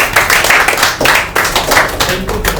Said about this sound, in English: So clap for everybody.